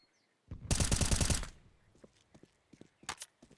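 A rapid burst of Desert Eagle gunfire in a Counter-Strike match on de_inferno, loud and close, lasting about a second, followed by faint scattered clicks and a couple of short sharp sounds.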